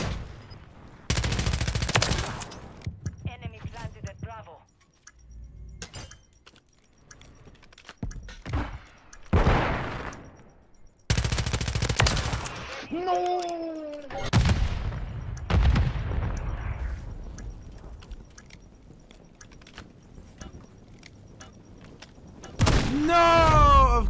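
Shotgun blasts and other gunfire in a first-person shooter game, sharp loud booms scattered among rapid bursts, with quiet gaps and occasional speech between.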